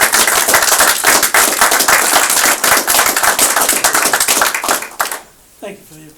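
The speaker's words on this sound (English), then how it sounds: "Thank you for the applause." Loud, dense applause from a crowd at a Wellington local election candidates' event, rapid overlapping claps that cut off sharply near the end, followed by a brief quiet voice.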